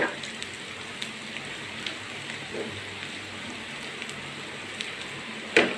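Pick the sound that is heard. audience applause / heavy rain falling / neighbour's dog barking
heavy rain falling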